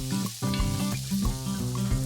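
Finely chopped medium onion hits hot coconut oil in a pan and sizzles steadily and close, with light stirring noises throughout.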